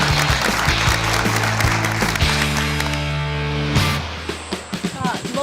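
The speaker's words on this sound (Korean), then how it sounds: "위로의 박수 부탁드립니다." Audience applause at a Korean high school quiz show, a burst of clapping over musical tones that thins out and fades near the end.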